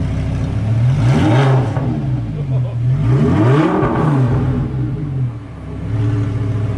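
An Audi R8 supercar engine revs twice to around 3,500 rpm, each rev a loud rising and falling roar over a deep idle rumble, recorded close by.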